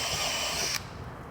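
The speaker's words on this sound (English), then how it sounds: "And right there, I'm drilling" A power drill whirs steadily while boring mounting holes through a plastic motorcycle topcase with honeycomb ribs, then cuts off abruptly, leaving near silence.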